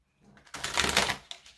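A deck of tarot cards is shuffled by hand in one quick riffle lasting about a second, crisp and close, followed by a faint tap.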